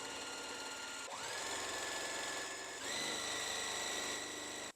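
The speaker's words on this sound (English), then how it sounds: "I'm just going to hold on to it and then just sew just like that." A sewing machine runs steadily, stitching quilt block pieces together for a mystery quilt block; its close, even motor hum is broken by a brief pause and restart partway through, with no talking.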